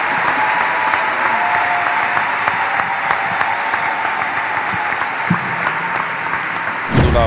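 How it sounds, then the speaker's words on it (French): A church congregation applauds steadily as a pastor is called forward, with a dense, continuous roar of clapping and some crowd noise, ending with a brief loud burst. "Est-ce qu'on peut m'aider à acclamer mon père, s'il vous plaît?"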